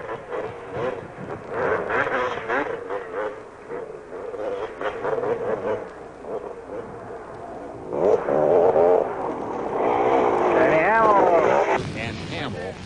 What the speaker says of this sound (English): Listen to the engine. He never lets off.